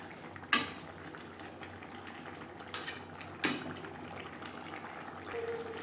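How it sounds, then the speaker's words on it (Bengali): Fish curry with fish heads simmers in gravy in a pot, a quiet bubbling murmur broken by a few sharp metallic clinks of a spoon against the pan, fairly faint and without speech. "গ্রেভির সাথে মাছ আরও তিন চার মিনিট রান্না করবো"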